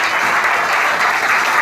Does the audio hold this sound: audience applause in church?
yes